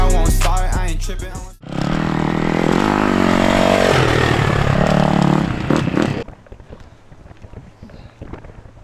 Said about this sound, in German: dieses Motorrad